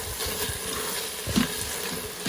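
A spoon stirs food inside an Instant Pot, making soft close scraping and sloshing with a faint sizzle underneath and one slightly louder knock partway through.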